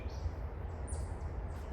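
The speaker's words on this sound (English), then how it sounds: "Them birds chirping" Faint, high chirps of birds in a shaded, tree-lined outdoor spot, a few thin calls scattered over a low steady background hum, distant and quiet.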